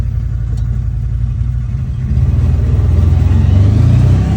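CFMOTO utility vehicle with a new clutch kit and belt pulling away in low gear, a steady engine drone that swells and deepens midway as it accelerates smoothly, close and loud with no talking.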